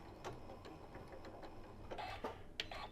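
A sewing machine stitching a lock stitch on a Japanese rice bag, quiet, light mechanical ticking and whirring with a few sharper clicks toward the end, heard alone.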